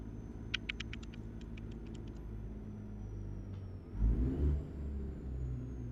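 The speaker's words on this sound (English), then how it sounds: "Engine sounds a little quiet to me." Low, steady rumble of a Freightliner Argosy truck engine in American Truck Simulator, a quiet idle-like drone with a brief rise in revs near the end and a short burst of clicking ticks early on.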